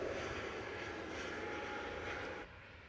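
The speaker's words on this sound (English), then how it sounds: "This is going to be a United 737 in the Star Alliance livery." A United Boeing 737 in Star Alliance livery departs runway 31 at Nashville International Airport with a broad, steady engine roar heard from a distance, which drops off sharply near the end.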